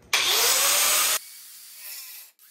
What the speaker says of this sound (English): make one of these cuts with the portable bandsaw